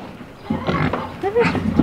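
Pigs on a farm grunt and squeal in short bursts close by, a couple of overlapping calls within a couple of seconds.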